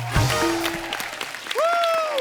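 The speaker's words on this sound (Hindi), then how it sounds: "भूत पुलिस की कास्ट के लिए जोरदार तालियां हो जाए यार" Applause from a show audience greeting the Bhoot Police cast, a steady clatter of clapping running the whole stretch with voices and a rising tonal sound over it.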